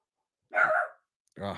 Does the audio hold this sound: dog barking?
yes